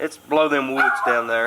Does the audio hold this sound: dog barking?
yes